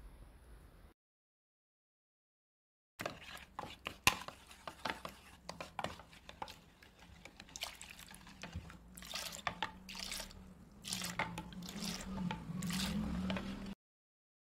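Wet, squishy stirring of a thick coconut milk and flour batter in a bowl, with repeated soft sloshes and scrapes up close, continuing steadily after a short silence.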